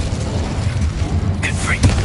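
Incendio fire spell cast in Hogwarts Legacy, a short whooshing burst of flame amid rumbling game ambience, with a brief bright crackle near the end and spoken game voices over it.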